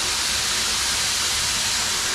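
A CNP PM370S pump pushing water out of a tap at 3 bar, producing a strong, constant hissing rush that stays level and close throughout.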